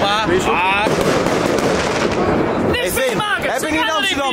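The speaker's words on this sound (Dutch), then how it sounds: "die buren hebben wel echt gek vuurwerk" Neighbours' fireworks crack and rumble in a dense, continuous barrage, loud and close, while people talk excitedly over the bursts.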